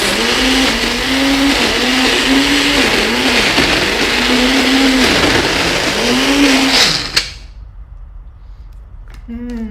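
A kitchen blender whirs loudly while blending pesto, its motor pitch wavering as the blades churn, then cuts off abruptly near the end, leaving a quiet room with a few faint clicks.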